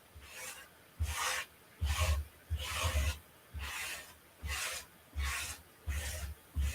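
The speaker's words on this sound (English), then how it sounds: "I'm just going to use my squeegee because it's not quite the same consistency" Squeegee dragged over a chalk transfer stencil, spreading paint in repeated strokes, about nine gritty rasping swipes in a steady rhythm with brief pauses between, close and fairly quiet with no talking.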